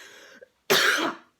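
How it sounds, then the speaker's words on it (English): A single harsh cough bursts out loud and close, lasting about half a second after a brief fainter throaty sound, then fades to silence. "Ever cough so much you start getting a headache?"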